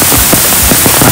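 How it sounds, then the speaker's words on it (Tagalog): Heavy rain pouring at a resort near a cafe and swimming pool, a loud, dense, continuous hiss of drops with no pauses. "Unfortunately, ang lakas ng ulan."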